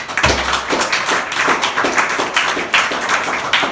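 Scattered clapping from a church congregation during a Spanish-language sermon, a loose run of uneven claps close by with no talking over it.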